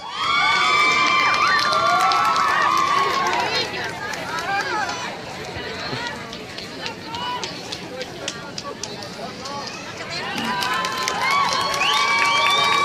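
A live crowd at a music show in Pénjamo, Guanajuato, cheering and shouting loudly as a performer is introduced. The noise swells, eases in the middle and rises again, with whistles and overlapping voices throughout.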